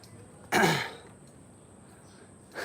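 During an indoor martial arts training session, one sharp, loud sneeze bursts close to the microphone. Quiet room tone follows, then a faint breathy sound at the end.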